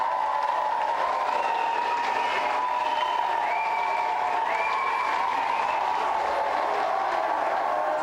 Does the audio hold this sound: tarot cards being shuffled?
no